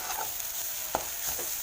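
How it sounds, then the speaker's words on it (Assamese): Dhekia fern greens fry and get stirred in a pan, a soft steady sizzle under occasional spatula scrapes and one brief louder clink, close by. "সময়ৰ কাৰণে এইখিনি এনেদৰে ভাজি থাকিম মই অকণমান লৰাই।"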